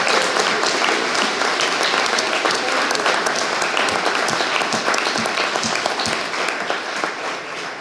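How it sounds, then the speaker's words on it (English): Sustained applause from a crowd at a Dummerston town meeting, thanking the Grange for lunch: dense, even clapping that fills the room and fades slightly near the end, with no speech. "we were just applauding for them"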